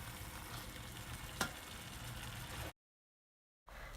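Meat browns in a pan for a quince tagine. The frying hiss is faint and steady, with one sharp click from a utensil, then a moment of total silence before the sizzle resumes.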